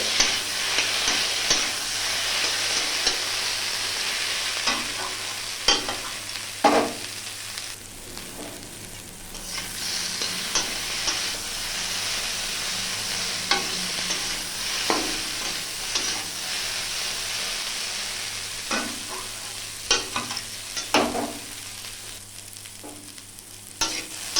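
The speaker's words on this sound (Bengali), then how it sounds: "এরপর আমি সমস্ত মশলা দিয়ে ভালো করে আমি ভেজে নিচ্ছি।" Ground spices with ginger and mustard paste frying in a pan for a Bengali fish curry, a steady close sizzle broken by scraping stir strokes and clinks of the spatula, with no talk.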